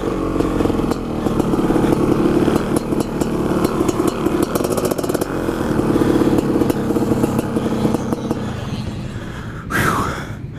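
A Honda CR500 two-stroke dirt bike is ridden, its engine a loud close buzzing drone with rapid pulsing, shifting pitch as the throttle rises and falls, then easing off near the end.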